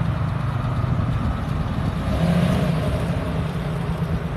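A car rumbles past, leaving a Cars and Coffee gathering in Texas, its low engine drone steady and moderately close for a few seconds with no talk.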